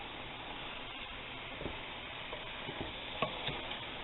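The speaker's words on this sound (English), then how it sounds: "we're going to give that a stir" Chicken teriyaki stirred in a frying pan, a soft continuous sizzle with a few light scrapes and taps of the utensil, fairly quiet and without talking.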